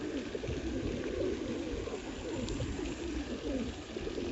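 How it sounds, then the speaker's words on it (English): Pigeons fighting and cooing in a park garden, a steady low burble of soft coos with rustling and flutter, fairly faint and close, no talking. "Pigeons are flying about like mad. Those two are having a fight, look."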